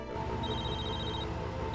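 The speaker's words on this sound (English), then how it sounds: "Sir, your phone's ringing." A cell phone ringing inside a moving vehicle in an animated scene, a steady electronic ring tone with a layered buzzing pattern, loud and close, heard alone for under two seconds.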